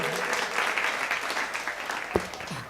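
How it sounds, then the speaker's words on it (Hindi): Audience applause at a Hindi kavi sammelan poetry recital in an auditorium: a dense, steady clatter of many hands clapping that carries through the whole stretch, with one sharp thump near the end. "तो एक बार ताली घसेट के थोड़ा बजा दो जम के।"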